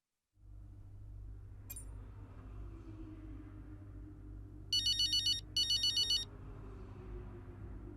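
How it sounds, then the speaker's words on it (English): In the F1 23 racing game, a phone ringtone chimes in two short bright bursts over a steady low engine-like rumble, with no talking. "That's no way to answer the phone."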